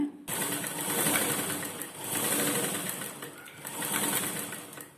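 A sewing machine stitches a lined blouse in three sustained whirring runs with short pauses between, its rapid needle chatter close and fairly loud.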